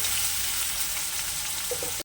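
Onions sizzle steadily in a hot pan, a continuous close hiss of frying that cuts off abruptly at the end.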